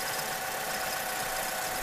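A cold Vauxhall Corsa 1.4 engine idles high on choke, a steady, close, even mechanical drone that fills the whole stretch with no talking.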